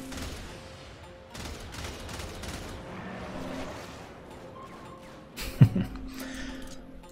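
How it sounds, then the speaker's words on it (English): A burst-fire weapon in a video game fires short clusters of sharp shots over a busy background of game effects, with one louder impact near the end. "I forgot this is a burst weapon."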